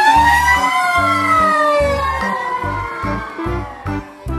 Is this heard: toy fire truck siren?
yes